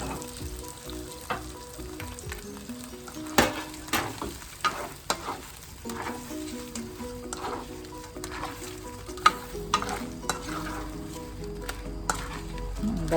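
Shrimp sizzling in a pan with oyster sauce and Sprite, a steady close frying hiss broken by the scrape and clack of a spatula stirring at irregular intervals.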